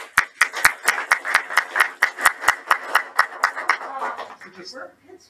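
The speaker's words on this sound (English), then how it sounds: "let's give them a big round of applause" Audience at a live startup event claps in a fast, steady series of sharp hand claps that tails off after about four seconds, with speech running through it.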